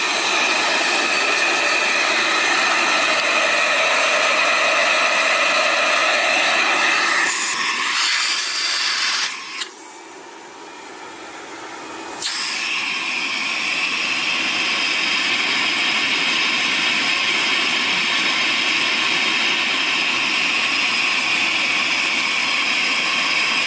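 A central vacuum system roars steadily at close range during a suction lift test, a loud broadband hiss and whine that drops and muffles briefly midway before returning to full strength.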